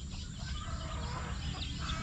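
Hens and roosters cluck and murmur continuously nearby, a busy flock sound over low background rumble, with no voices.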